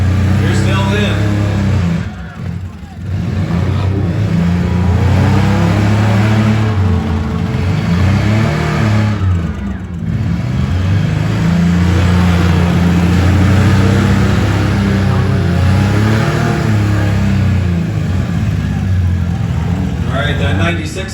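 Six-cylinder demolition derby cars rev and rumble at a county fair, a loud continuous engine drone swelling and dipping with occasional crunching surges, while an announcer talks over the arena noise throughout.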